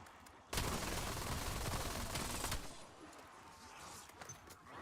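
Sustained rapid gunfire with heavy recoil from Call of Duty Black Ops 7 Zombies, a loud dense burst lasting about two seconds, then quieter scattered game noise and faint shots trailing off.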